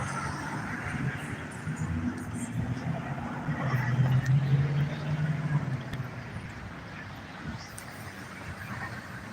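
Car traffic on the Seattle waterfront among high-rise apartments, a low rumbling vehicle drone that swells to a louder pass near the middle and then eases, with someone talking over it.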